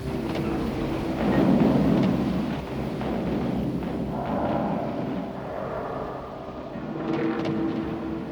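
Rumbling, rolling clatter of an artillery train running on rails in a video game, steady and moderately loud, swelling and easing with no voices.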